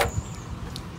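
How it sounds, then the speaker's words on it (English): A Ram truck engine idles with a steady low rumble, close by, for a brief moment with no talk. "The truck is running."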